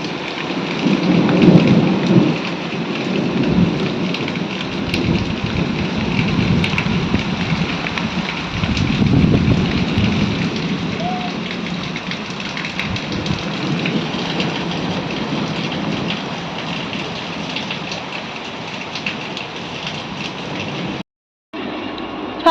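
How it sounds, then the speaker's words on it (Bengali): Thunderstorm with heavy rain, a loud, steady downpour with deep rolling rumbles of thunder swelling early and again midway before easing, and a brief dropout near the end. "ফাইনালি ঝড় বৃষ্টি থেমেছে, যদিও মাঝে মাঝে একটু বাজটা পড়ছে, এখনো বন্ধ হয়নি"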